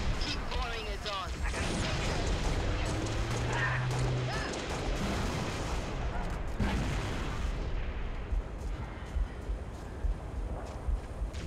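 Explosive gunfire and booms in the PC video game Halo Reach, rumbling blasts and crashes in a busy battle mix with someone talking throughout.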